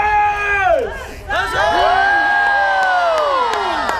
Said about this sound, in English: A cheer for Burgundy!